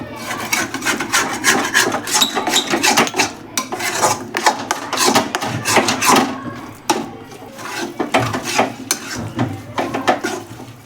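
A wooden spoon scrapes and rasps against a pan as turmeric is roasted in ghee over a low flame, making steady, rhythmic stirring strokes that continue close up without pause.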